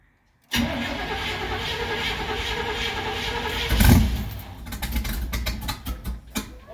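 A 1971 Chevy C10 that has sat for months makes a hard spring cold start: after a moment of silence the starter cranks loudly for several seconds, then the engine catches with a surge and runs roughly and unevenly up close.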